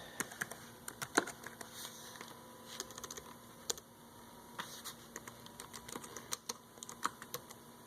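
Rapid clicking of keys on a computer keyboard, irregular bursts of taps close by over a faint steady hum, with no talking.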